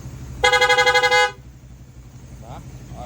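A 12-tone musical horn on a vehicle sounds a rapid pulsing burst of about a second, loud and close, followed by engine rumble and someone talking.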